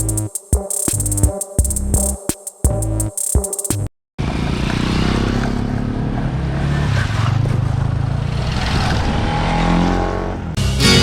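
A group of five motorbikes on a ride from Sarangarh toward Amakoni dam, heard as a continuous, rushing engine and wind roar that follows a few seconds of music and holds steady without talk.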